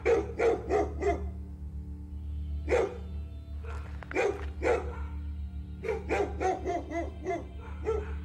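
Dogs bark repeatedly at a mother bear with a cub in the woods, sharp bursts in quick clusters separated by short pauses, close and loud over a steady low hum.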